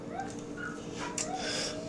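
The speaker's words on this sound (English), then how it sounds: "And there's my dogs. They're Chihuahuas." Small Chihuahua dogs whimper and give high thin yips, several faint whines and short yelps overlapping at moderate distance, with no speech over them.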